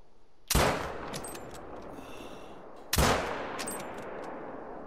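Two loud gunshots from a hunting video game's Sika deer hunt, each a sharp crack with a long echoing decay, spaced about two and a half seconds apart, with no talk.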